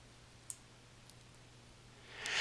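Computer mouse clicking during a drag and drop in report software, two faint sharp clicks spaced about half a second apart on a quiet background, with a soft rustle swelling at the end.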